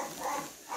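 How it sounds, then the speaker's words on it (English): A small pet dog barks faintly somewhere in the background, a few muffled yaps rising and falling in a quiet room. "that's my dog. That's my little dog, Tilly."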